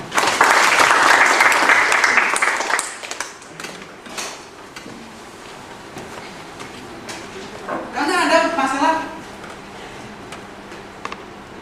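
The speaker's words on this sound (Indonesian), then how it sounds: "Tepuk tangan untuk Anda." A lecture audience at a university talk on Islam and pluralism claps in a lively burst for about three seconds, then the applause fades and a speaker's voice continues over a quiet room.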